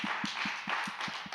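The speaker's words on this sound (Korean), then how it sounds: "박수에 점점 영혼이 없어지고 있어요" Sparse, unenthusiastic applause for newly introduced teachers at a student-group worship service, with a few slow, evenly spaced claps over a steady crowd hiss, fairly close.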